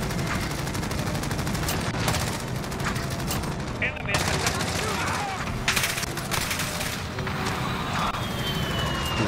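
LMG light machine gun fire in the video game Call of Duty: Modern Warfare, loud continuous bursts of automatic gunfire with other shots and game noise layered over one another throughout.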